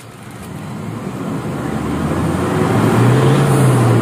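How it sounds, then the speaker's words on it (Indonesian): Toyota engine revving under acceleration while the car is tested for low power, a steady rising drone that swells gradually into a louder low tone near the end, with no talk. "tenaga dari mobil ini dengan cara kita akselerasi ya"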